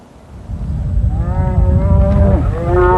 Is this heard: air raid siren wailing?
no